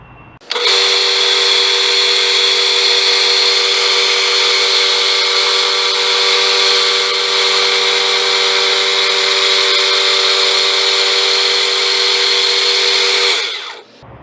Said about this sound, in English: So I'll come now and just sharpen the rest of the blade here.